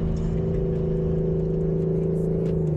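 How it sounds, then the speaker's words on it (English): A KraftWerks supercharged 2018 Mustang GT engine runs with a sustained, turbo-like whine, a steady tonal hum over the deep engine rumble, loud and close throughout the short stretch. "God, the sound this thing makes is amazing. That's literally a turbocharger."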